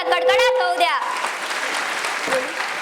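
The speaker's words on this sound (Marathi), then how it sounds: "चला या परफॉर्मन्स साठी परत एकदा टाळ्यांचा कडकडाट होऊ द्या." An audience bursts into steady, dense applause after a song performance, following a moment of voice with sustained tones at the very start.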